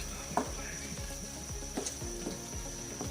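Keema with potatoes and spices frying and being stirred in a pan over a medium flame, a steady close sizzle broken by repeated scraping stir strokes.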